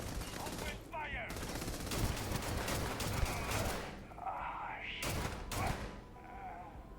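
Bursts of automatic gunfire in the Starfield video game, dense rattling volleys close by with brief lulls between them and faint voices shouting underneath.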